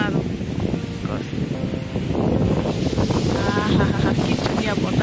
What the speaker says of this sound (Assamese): কি ধুনীয়া বতাহ দিছে